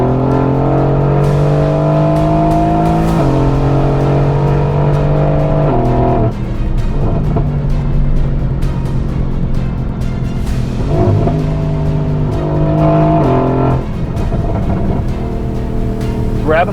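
A Mercedes-AMG GT accelerates flat out, its engine note climbing hard through several gears with sharp drops at each upshift, loud and close from inside the car.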